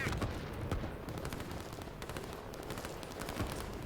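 Artillery fire in the Line War strategy game, booming and cracking in dense overlapping volleys that roll on through the whole stretch, with no clear talking.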